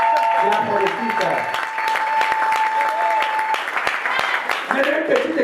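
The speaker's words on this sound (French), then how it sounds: "Non, applaudissez pour ça. Clap for the sister." A small church congregation claps in a steady burst of applause, with a voice and a sustained tone heard at the start and voices returning at the end.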